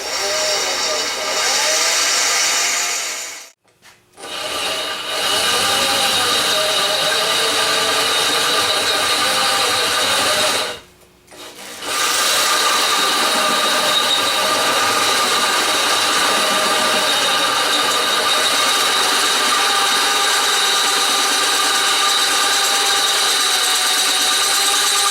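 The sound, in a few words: drilling Volkswagen valve cover with 1/4 inch bit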